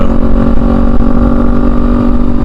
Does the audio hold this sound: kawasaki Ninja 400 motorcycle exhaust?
yes